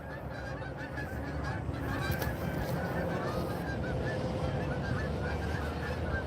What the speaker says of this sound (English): B-roll of the geese flying by over there.